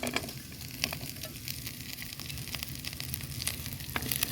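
Capsicum and onion sizzle in a hot pan for gobi manchurian, a soft, even crackling fry with faint spatters and light stirring, fairly quiet and with no speech.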